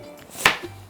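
A kitchen knife chopping through an onion across its fibres on a cutting board while preparing chicken curry, a single crisp cut landing near the middle of a quiet moment.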